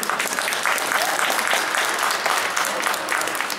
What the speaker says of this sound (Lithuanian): Na, iš šito vietoj palaikykime sportininkus plojimais.